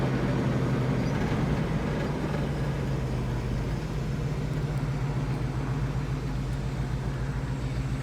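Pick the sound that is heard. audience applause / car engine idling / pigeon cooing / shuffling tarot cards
car engine idling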